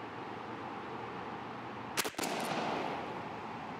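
A 28 gauge shotgun fires a single 8-9 duplex TSS load, one sharp loud blast with a brief echo, standing out against steady outdoor background noise.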